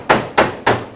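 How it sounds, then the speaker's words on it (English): Three sharp, evenly spaced metallic hammer strikes ring out close up as a car door skin is hammer welded where the door handle was shaved off. "I know you're hammer welding."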